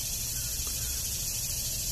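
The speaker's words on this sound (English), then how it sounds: "You can hear the cicadas out there." Cicadas drone outdoors in a steady, continuous high buzz that stays even throughout, with no voices over it.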